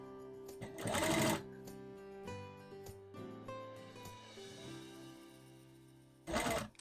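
A sewing machine stitches a long circle gown in two short loud bursts, one near the start and one at the end. Between them a quieter tonal hum holds steady.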